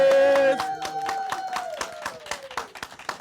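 A burst of hand claps from a small group, loose and uneven, following a sustained musical tone that fades out.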